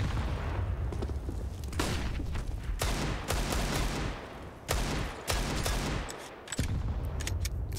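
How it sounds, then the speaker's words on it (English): Gunfire in a professional Counter-Strike match at an ESL Pro League broadcast: loud, rapid bursts of automatic shots with sharp single cracks, continuing in clusters with brief gaps throughout. "Some shots towards the sandbag angle."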